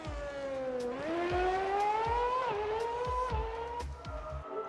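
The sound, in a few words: Formula 1 V8 race car engine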